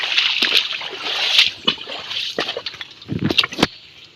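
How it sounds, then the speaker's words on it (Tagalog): Water flows and sloshes in a flooded freshwater stream, close and uneven, with hissing gushes and irregular splashes and knocks, strongest toward the end. "ayan kung naririnig natin yung tunog ng tubig"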